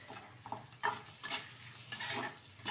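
Prawns go into onions frying in a pan for a potato and eggplant curry, giving soft sizzling and scraping stirring strokes in a few uneven bursts, close and fairly quiet.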